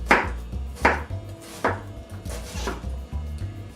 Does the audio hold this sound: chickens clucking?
no